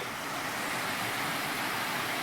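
North Harper Creek Falls in Pisgah National Forest, North Carolina, pours in a steady, full-bodied roar of rushing water, broad and continuous at close range with no voices.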